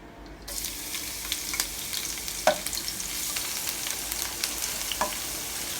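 Curry leaves, ginger, garlic and chili stirred in a hot pan, a steady close sizzle with scattered scraping clicks of the spoon, no voices.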